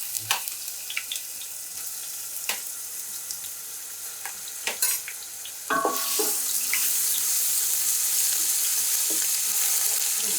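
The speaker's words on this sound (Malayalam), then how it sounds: "നമ്മൾ ജിഞ്ചർ ഗാർലിക് പേസ്റ്റ് ഇടണം" Ginger garlic paste dropped into hot oil, a faint steady sizzle with scattered clicks and stirring taps that jumps to a louder, denser frying hiss partway through.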